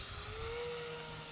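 A 4S-powered RC Cirrus SR22T model plane runs its electric motor at a steady, fairly loud whine with a slight rising tone, a brief burst as it rolls down the runway.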